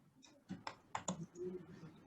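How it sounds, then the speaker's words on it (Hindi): A computer keyboard used for typing in Hindi gives a few sharp, close clicks in a short cluster, then a soft hum trails off. "आप चाहते हैं कि आप जो है सो टाइप कर लें हिंदी में"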